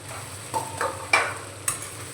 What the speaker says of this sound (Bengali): আলুগুলো দিয়ে আরও 2 মিনিট মতো কষিয়ে নেব।